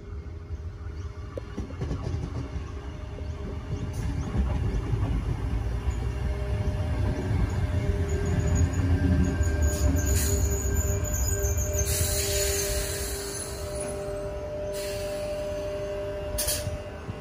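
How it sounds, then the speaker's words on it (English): Suburban commuter train T104 pulling into platform 3 at Denistone station and later departing, a sustained rumble of wheels and motors that swells and fades, with high squeals and a ringing tone, heard from the platform. "T104 arriving into platform number 3 bound for Hornsby."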